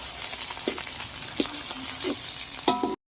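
Duck meat, about 1.5 kg, frying in a pan with ginger, garlic, bay leaf and chilli gives a steady close sizzle, broken by a few sharp stirring scrapes and clatters.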